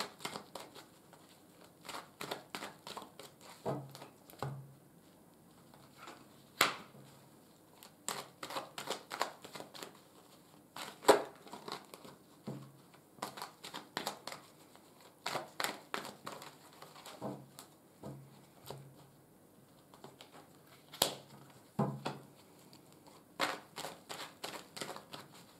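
Tarot cards are shuffled, handled and drawn at close range, giving soft, irregular riffles, slaps and light flicks with quiet gaps between them.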